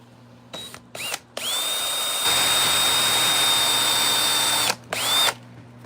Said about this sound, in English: I hate to drill through my nice little outfeed table